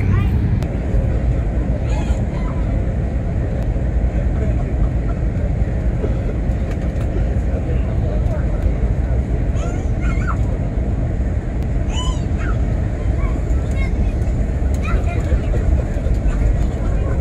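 Steady loud broadband roar of an Airbus A321neo cabin in economy during descent toward landing, engines and airflow droning continuously with faint speech and chimes in the background.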